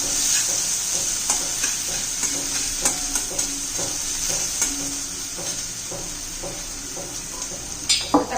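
Chopped onion is stirred as it sautés in a pan: a continuous close sizzle of frying runs throughout, with scraping and clinking from the utensil against the pan in an irregular rhythm.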